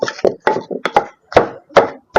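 Shrimp paste pounded in a mortar for a catfish curry sauce, sharp irregular thuds in quick bursts with short pauses between, close and loud.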